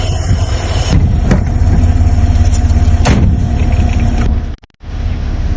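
An old Toyota Land Cruiser 70 Series 4x4 runs loud and close as it sets off to drive, the engine rumbling steadily with a few knocks, then cutting out for a moment before picking up again.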